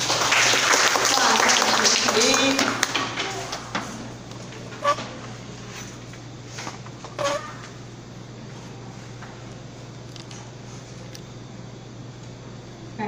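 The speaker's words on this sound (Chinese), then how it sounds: "我们再次热烈掌声" An audience at a Buddhist hall study class applauds after a lecturer's closing talk. A dense burst of clapping in the first few seconds quickly fades away, followed by a few isolated claps and a low steady hum.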